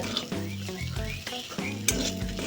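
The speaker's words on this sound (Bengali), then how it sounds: "দিয়ে ভালোভাবে নাড়াচাড়া করে নেব।" Vegetable filling with turmeric, salt and garam masala stirred in a sizzling pan, repeated scraping strokes of a spatula over a steady fry, close and clear.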